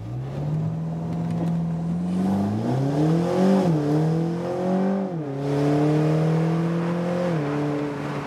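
BMW Z4 roadster launching hard under launch control, its engine note climbing steadily and dropping at quick gear changes before pulling again, loud and close inside the car, with no voices.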